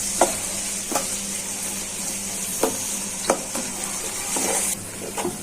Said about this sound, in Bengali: পেঁয়াজটা ভালো করে ভাজা হয়ে যায়